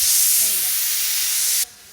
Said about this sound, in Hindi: कुकर सीटी बज गई